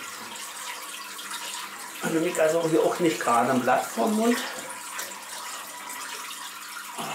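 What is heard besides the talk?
water poured into a 1-metre Eheim aquarium during water change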